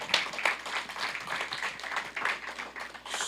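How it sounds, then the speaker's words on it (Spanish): A church congregation applauds together at a Sunday service, a dense, steady patter of many hands clapping for a few seconds. "pode aplaudir ao Senhor"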